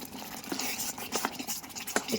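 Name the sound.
stirring prawn malai curry in a pan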